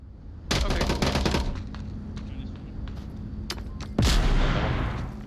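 Gunfire and a timed grenade blast in a competitive team shooter match: a burst of rapid shots near the start, scattered pops, then a loud sharp explosion around the four-second mark that decays, with commentators talking over it.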